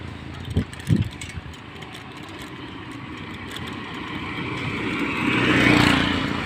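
Road traffic on a newly finished road near Dhorkora bazaar: a couple of brief knocks early, then motorcycle and vehicle engines rise and swell as they pass close by, growing loudest near the end, with no talk.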